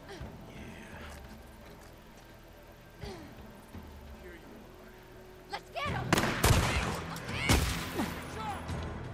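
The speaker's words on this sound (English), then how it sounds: "Shots fired!" Gunfire in the zombie video game Days Gone, arriving as a cluster of loud, sharp bangs and crashes late in the clip after a quieter stretch with game sounds and talk underneath.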